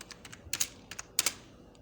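Keystrokes on a computer keyboard, a few scattered single taps followed by two short quick clusters, close and fairly quiet, with no voices.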